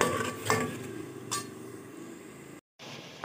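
Peas roasting in a pan for an aloo matar dish, with soft sizzling under a few sharp clinks and scrapes of a spoon stirring against the metal, close and fairly quiet.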